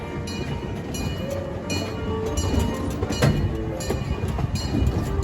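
A small park train rolls along at Irvine Regional Park, its steady rumble and rhythmic wheel clicks running throughout at close range, with a faint whine riding above the continuous rolling noise.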